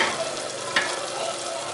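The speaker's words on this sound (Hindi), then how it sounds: "बिल्कुल लहसुन की, अदरक की, टमाटर, प्याज ये अच्छी तरह भुने जाएंगे इसमें।" Garlic, ginger, tomato and onion frying for a black chickpea curry masala give a steady close sizzle with soft stirring scrapes and one brief louder clatter partway through.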